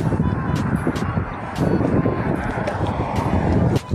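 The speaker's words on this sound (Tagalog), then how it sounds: "ang lakas ng hangin pa sa lubong." Strong wind buffets the microphone in a constant low roar with occasional gusts, loud and close, with faint sounds in the background.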